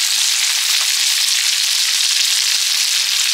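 Onion paste hits a pan of frying vegetables (eggplant, potato and stalks) in a home kitchen, giving a loud, steady, close hiss of sizzling oil that stays unbroken throughout, with no voices.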